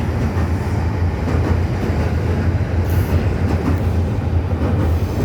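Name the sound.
train passing on railway tracks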